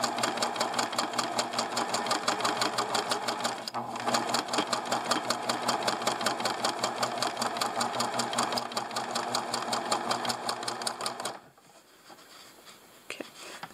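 A sewing machine runs continuously, rapidly stitching a seam along the edge of fabric with a fast, even mechanical patter, close and steady for about eleven seconds before stopping abruptly.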